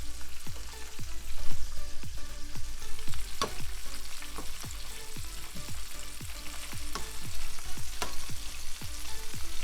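Chicken wings fry in a pan, a constant crackling sizzle broken by a regular series of sharp clicks and knocks as they are turned and moved, close and without talk.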